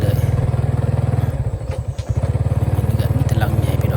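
A motorcycle rides steadily along a village road in a Lao village, its engine putting out a close, loud, rapid pulsing throb that holds nearly constant throughout, with brief rattles partway through.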